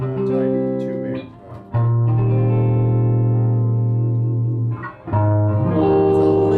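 An electric guitar played through a Quilter Tone Block 200 head with distortion rings out in long, loud sustained chords, with short breaks between them.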